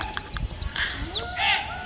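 Pigeons being flown nearby in a noisy residential neighbourhood, heard as brief, thin chirps and sweeping bird calls over a faint background hum, with no talking.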